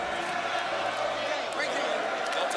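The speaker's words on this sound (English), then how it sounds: "You hear the crowd yelling, Dabo." A stadium crowd roaring at a 2021 Ohio State versus Clemson football game, a steady loud wash of distant yelling and cheering with a few sharp claps, continuous throughout.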